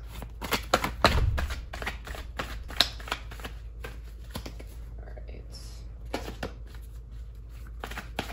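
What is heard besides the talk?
shuffling a deck of cards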